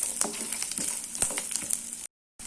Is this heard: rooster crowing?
no